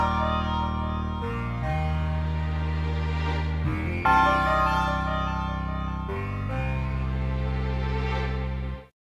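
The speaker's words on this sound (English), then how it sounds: "The shrine music plays when you're in a shrine" Shrine music from the video game The Legend of Zelda: Breath of the Wild, sparse layered tones with sustained low notes and shifting melodic plucks, steady and alone, ending abruptly.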